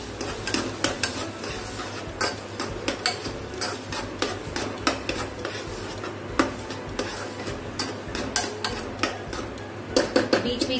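Chopped onions and mixed vegetables sauté in hot oil in a pan for a chole dish, with steady sizzling under repeated scraping and clinking of a spoon stirring against the metal, close and continuous without talk.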